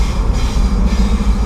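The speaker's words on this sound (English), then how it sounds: "Oh, we got a train right there." A train rumbles past close to a car on the road, during a drive in a 2014 Lexus IS350C F Sport convertible, a loud continuous low roar with rolling wheel noise and no talk over it.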